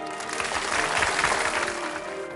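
Audience clapping at a Chinese overseas song contest final in Los Angeles, a dense, steady burst of applause lasting a couple of seconds at even loudness.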